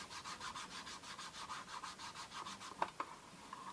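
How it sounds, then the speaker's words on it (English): A fingertip rubs soft sky ink back and forth across a stamp ink pad in quick, even, faint scuffing strokes, ending with a couple of light taps, and no one speaks. "I'm going to pop it on my finger and just basically rub it across your ink pad."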